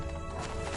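A horse gallops in The Witcher 3, giving a short, quiet burst of muffled hoofbeats with nothing else standing out.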